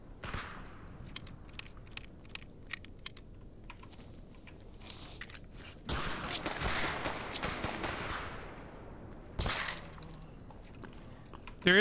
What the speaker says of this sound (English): Who's shooting at me and where are they?